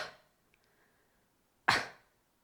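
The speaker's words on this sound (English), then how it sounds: "the other thing you can try is coughing" Two short coughs from a person working through a vocal belly roll breathing drill: a fading one at the very start, then a sharp, louder burst after a quiet pause.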